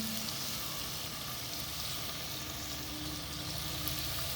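Bacon sizzling and frying in a hot pan as the base for a beef ragout, a steady, dense crackling hiss that holds close and even from start to finish with no talking.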